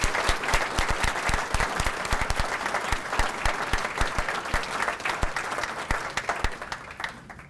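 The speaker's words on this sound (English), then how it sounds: "Please give a round of applause for these deserving honors." Audience applause at the 2016 Order of George honors ceremony, steady dense clapping from a large crowd filling the room throughout, fading slightly at the end.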